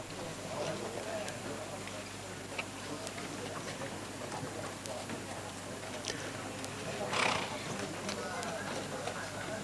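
Horses at an open viewing day for a two-year-old sale in Malaysia, with a steady murmur of crowd noise and a few scattered hoof knocks, plus one brief louder rustle near the end.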